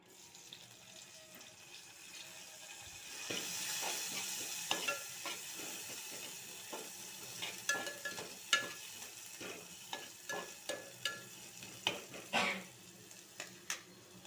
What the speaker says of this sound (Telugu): ఇందులోనే మనం కొంచెం మిర్చి వేసుకుందాము